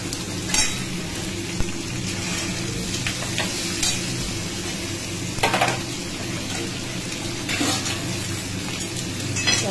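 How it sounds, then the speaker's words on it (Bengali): Garlic and onion sizzle in hot oil in a kadai, with a steady crackling fry and occasional scraping stirs and clinks of a spoon against the pan throughout. "কড়াতে তেল দিয়ে একটু রসুন ফোড়ন দিয়ে দিলাম, একটু পেঁয়াজও দিয়ে দিলাম।"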